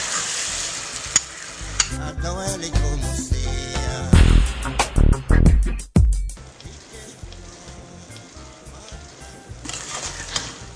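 Fresh tomato goes into a pan of simmering red bean sauce, with loud stirring and sizzling that builds to bursts of clattering scrapes midway, then settles back to a steady frying hiss.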